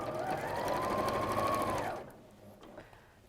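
A sewing machine running quilt seams, its motor whining at a steady pitch for about two seconds before stopping, then quiet handling noises; close and alone without talk.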